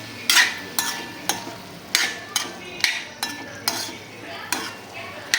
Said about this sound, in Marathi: छान परतून घेते।